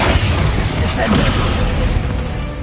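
Descendo spell slamming down in Hogwarts Legacy amid a spider fight, a heavy, continuous booming crash with a brief sharper impact partway through, loud and close.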